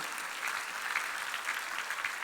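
Steady applause from a church congregation during a Sunday worship service, a dense, even patter of many clapping hands that continues throughout at moderate loudness.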